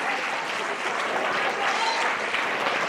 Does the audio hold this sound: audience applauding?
yes